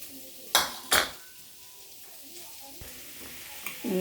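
Carrot and beetroot fry in a pan while a utensil stirs them: two sharp metallic scrapes against the pan near the start, then a soft sizzle with occasional light clinks, close and fairly quiet, with no talking.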